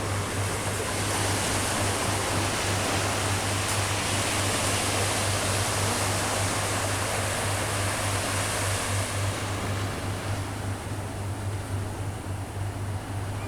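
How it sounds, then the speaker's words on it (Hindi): Sea waves roll onto a Goa beach in a continuous broadband wash of surf, steady and fairly loud throughout, with a low constant hum running beneath it. "समुद्र की लहरों का आनंद ले रहे थे"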